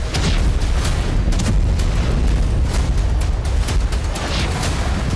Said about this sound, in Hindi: बैरूत के अलग अलग इलाकों में रह रहकर विस्फोट हो रहे हैं।